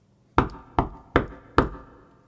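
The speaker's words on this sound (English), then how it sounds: "he heard a knock on the door." Four sharp knocks on a wooden door, evenly spaced about half a second apart, close and alone with no talk.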